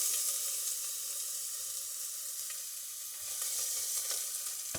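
Chopped onion frying in hot olive oil in a pan, a loud continuous sizzle with bright crackle close up, briefly swelling near the end as it is stirred.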